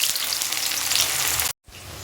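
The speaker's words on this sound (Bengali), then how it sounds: "তেল গরম হয়ে গেছে, এবার আমি পেঁয়াজ কুচি ছেড়ে দিচ্ছি" Chopped onions hitting hot oil for ghugni, a loud, close, steady crackling sizzle that runs without pause, then cuts to silence for a moment before the sizzle resumes more quietly.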